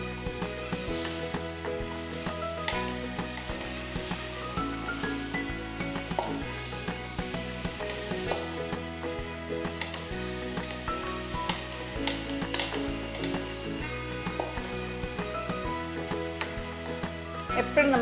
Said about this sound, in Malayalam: കുറച്ച് നേരം ഇതൊരു 5 മിനിറ്റ് ഫ്ലെയിമിൽ കിടന്ന് സോട്ടേ ചെയ്യണം.